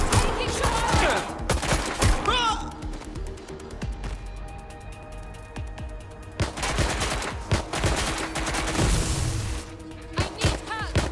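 Gunfire erupts in the video game Watch Dogs Legion, with loud bursts of automatic shots and rapid volleys broken by short pauses and accompanied by shouting game voices.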